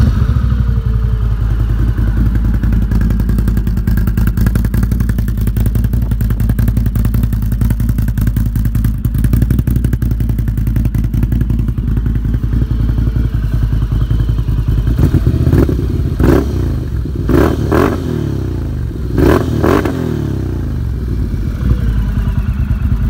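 A 2020 Can-Am Outlander XT-P 1000R ATV fitted with an RJWC dual exhaust and a tuner idles loudly and steadily up close, then throttle blips rise in several sharp revs near the end.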